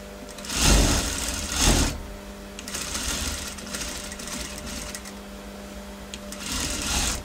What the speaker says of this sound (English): now I'm stitching over to the seam of the pocket, going over and continuing and taking the shape of the pocket